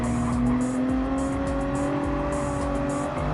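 Toyota Supra race cars in a racing video game give a continuous, loud engine drone. Their tones hold steady and layer together, with no voices over them.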